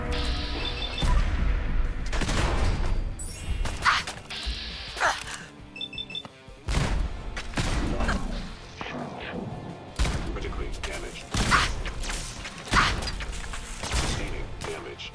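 Repeated gunshots in Fallout striking an enemy, sharp bursts and impacts recurring every second or so through a busy, loud combat mix.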